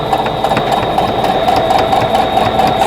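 A sewing machine runs steadily while stitching a quilt block seam in the ditch, its needle chattering in a fast, even mechanical rhythm with a constant motor hum, close and loud with no pauses.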